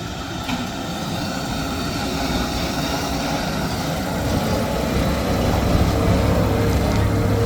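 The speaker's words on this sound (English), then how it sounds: "The noise of the engine echoed in a corner of the sky." On a sharp, narrow mountain pass a vehicle engine drones and slowly builds in loudness, its broad rumbling roar echoing with no voices present.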